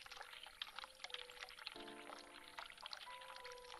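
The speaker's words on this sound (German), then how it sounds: "ich habe gerade heißes Wasser an" Faint hot water runs steadily from a sink tap in the video game The Cat Lady, a soft pouring hiss throughout with quiet sustained musical tones underneath.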